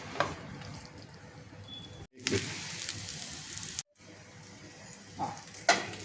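Onion and bell pepper sautéing in oil in a pan while making hotel-style mushroom masala, a steady soft sizzle broken by two brief silent cuts, with occasional louder crackles and clinks near the end.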